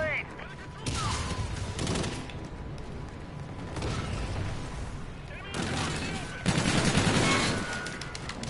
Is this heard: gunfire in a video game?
yes